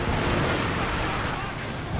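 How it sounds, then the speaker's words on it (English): Light artillery barrage in the game Company of Heroes 2, a dense, continuous rumble of shell bursts and gunfire filling the whole stretch at steady loudness. "light artillery barrage has been called on some of these vehicles"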